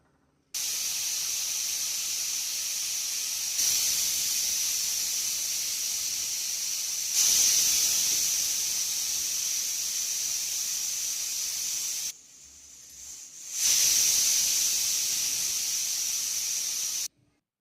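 A pressure cooker lets out a steady loud hiss of escaping steam, broken into several long bursts with brief pauses, one sharper whistle-like surge near the end.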